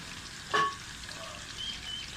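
Potato pakoras fry in hot oil over a fairly high flame, giving a steady crackling sizzle with one brief, louder hiss near the start.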